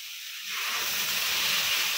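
Water poured into a pan of fried vegetables for a Bengali pumpkin-stem curry, a sudden hiss rising into a steady, close, loud sizzle that fills the moment alone.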